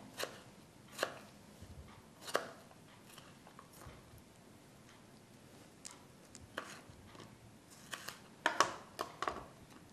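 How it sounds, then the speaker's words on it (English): A knife chops tomatoes into chunks on a cutting board, giving faint, irregular taps and thuds, some in quick pairs or clusters, in a quiet kitchen without talk. "Okay, then we need two tomatoes. You can actually chunk it up, no problem."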